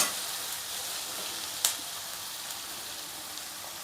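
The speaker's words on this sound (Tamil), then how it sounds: "வெங்காயம் கொஞ்சம் ப்ரௌன் கலராக லைட் ப்ரௌனாக வரட்டும் நல்லா வதங்கி" Onions fry in a pan for Tamil-style tomato thokku, a steady, fairly quiet broadband sizzle with a sharp clink of a stirring spoon partway through and occasional faint ticks, no voices.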